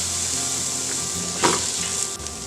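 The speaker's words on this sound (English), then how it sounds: "I'm going to go ahead and add all of my diced onion" Diced onion lands in melted butter in a pan and sizzles steadily, with a brief louder crackle as the pieces hit the fat. It is close and moderately quiet, with no speech.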